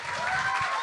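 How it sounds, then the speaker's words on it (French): A live audience breaks into brief, dense applause for a guest's daughter during a French-language talk show, a steady wash of clapping filling the whole moment. "applaudit ta fille"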